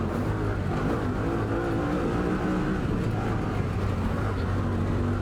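Steady engine drone of a 2019 Honda Talon 1000R side-by-side UTV, a low rumble holding a fairly even pitch with slight variations, close and continuous without any talk.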